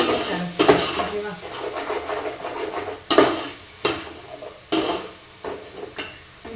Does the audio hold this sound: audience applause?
no